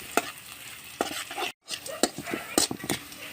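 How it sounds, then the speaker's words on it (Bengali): Reddish-browned onions fry in a pan with panch phoron for a vegetable dal, giving a low sizzle under repeated sharp spatula scrapes and clanks, with a brief silent gap midway and no talking. "আমার পেঁয়াজগুলো লাল লাল করে ভাজা হয়ে গেছে।"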